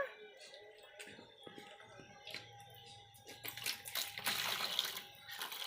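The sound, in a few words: water while child washes a bicycle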